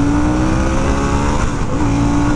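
A 2022 Harley-Davidson Sportster S motorcycle accelerates hard in first gear through and out of a corner, its engine a loud, steady, close roar throughout.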